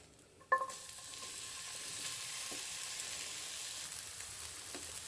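Ground peas hit a hot pan and go on roasting with a steady, even sizzle over low heat, beginning with a sharp burst as they drop in.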